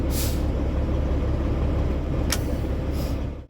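A semi truck's fifth wheel slide air valve is pressed in, giving a loud, continuous hiss of released air with brief sharper bursts over an idling engine rumble, ending in a sudden cutoff.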